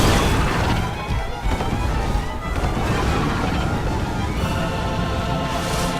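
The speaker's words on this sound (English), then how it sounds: "He spits fire a lot." A gargoyle in Dark Souls spits fire amid constant combat noise, with dense roaring blasts and crashing hits sustained loud throughout.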